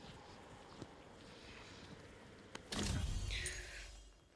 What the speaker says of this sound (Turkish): Sandık açılınca efekti gidiyor